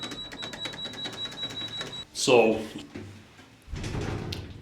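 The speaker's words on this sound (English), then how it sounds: "Doors closing." Lift doors slide shut with a brief mechanical whoosh and clunk partway through, between a voice talking before and after.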